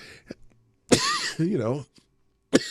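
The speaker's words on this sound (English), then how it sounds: "now I'm coughing again" A sharp, close cough followed by a raspy throat-clearing sound, then another brief cough burst after a short pause.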